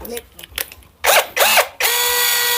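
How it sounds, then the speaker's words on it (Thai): Power drill boring holes into a bathroom soap holder during a fixture installation, heard as a short buzzing burst, a second burst, then a longer steady whine, loud and close. "เจาะครับเจาะให้มันเป็นรูซะหน่อยไหมเจาะมันเป็นรู"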